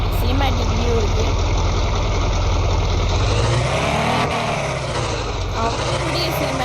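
A Ferrari idles in the mobile driving game Indian Car Driving 3D, a continuous synthetic engine drone with slight pitch swells, loud and steady while someone talks over it.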